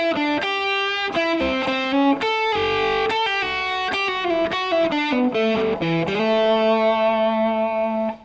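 Overdriven electric guitar plays a blues shuffle lick with quick picked notes and slides, then settles on a long sustained bend that rings out, loud and solo with no voices.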